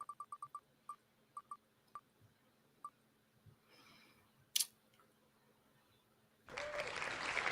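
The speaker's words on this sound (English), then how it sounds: "Automatic applause system." Automatic applause sound effect from a button-triggered system on a talk show, a loud burst of dense clapping arriving near the end after a few sharp clicks and quiet room noise.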